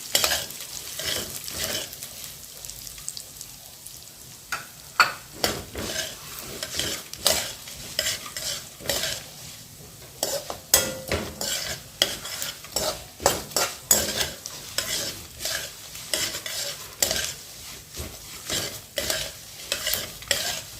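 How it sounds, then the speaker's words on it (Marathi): Flax seeds are dry-roasted in a pan for sweet laddus, with a spoon scraping and stirring in irregular bursts over a faint sizzle, quiet stretches falling between clusters of sharp metallic strokes. "जवस पण ना थोडंसं भाजून घ्या"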